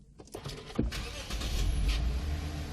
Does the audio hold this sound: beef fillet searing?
no